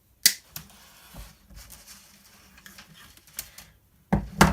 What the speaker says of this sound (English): Just take your snips like that and cut it over the wire.